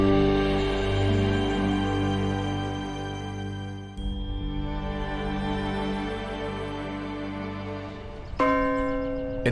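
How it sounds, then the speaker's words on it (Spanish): The bell of Nabu, a church bell, rings with a long, sustained metallic hum that slowly decays, followed by another strike and then a sharper ringing tone near the end. The sound is moderately loud and heard alone. "la resolución de un misterio de 180 años de antigüedad revela la identidad errónea de la campana de Nabú"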